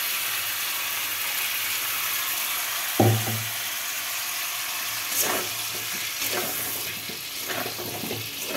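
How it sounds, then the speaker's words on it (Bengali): Ground spice masala for aloo dum sizzles steadily in a hot pan, a close, even frying hiss with a sharp clack near the start and occasional stirring scrapes. "মশলাটা আমি দিয়ে দিচ্ছি, এখন কষাবো।"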